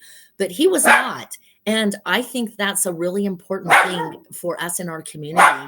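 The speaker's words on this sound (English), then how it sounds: "Sorry if you can hear my dogs barking in the background" Pet dogs bark in the background, their yips mixed beneath nearly continuous close-up talking.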